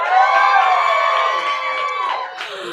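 An audience at a slam poetry event cheers and whoops loudly, a dense wall of shouting voices that holds steady and then tapers slightly.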